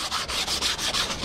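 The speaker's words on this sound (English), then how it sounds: "I'm going to sand that little burr off." Sheet of 150 grit sandpaper wrapped on a wooden block rubbed by hand against a wooden plaque, giving quick rhythmic scratchy strokes, close and steady, about six passes with no talking.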